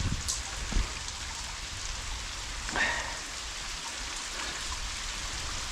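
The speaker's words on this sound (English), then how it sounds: "I think I shall stay here for the next few minutes, because it's chucking down." Heavy rain pours steadily while sheltering beneath a bridge on a hillside moorland walk, a dense continuous hiss of drops with a few louder nearby splashes and no talking.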